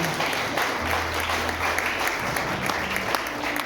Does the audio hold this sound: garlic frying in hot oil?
no